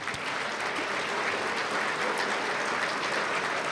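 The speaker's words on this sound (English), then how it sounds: "A round of applause for our sponsors." Dense, steady applause from a dinner audience honoring event sponsors at a leadership dinner, a continuous wash of many hands clapping at even loudness throughout.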